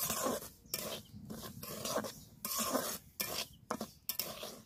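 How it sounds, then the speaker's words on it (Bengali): Semolina is stirred and dry-roasted in a pan with a spoon, giving irregular scraping, rasping strokes against the metal with short pauses between them. "সুজিটা কাঁচা গন্ধ যাতে না থাকে তার জন্য একটু নেড়ে ভেজে নেব।"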